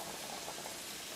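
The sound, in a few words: pasta boiling in pot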